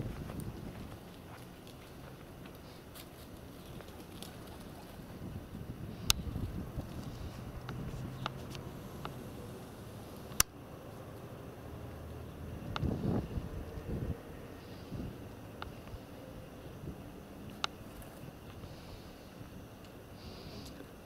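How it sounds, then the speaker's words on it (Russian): Wind blowing outdoors, steady low rumble and breezy microphone buffeting throughout, with occasional faint knocks, no talking. "Хотя ветер дует на меня, а не на ту сторону."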